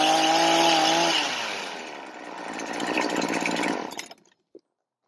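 A small two-stroke string trimmer engine with a cheap replacement carburetor runs loud and steady, its buzzing whine shifting pitch partway through before cutting off abruptly near the end.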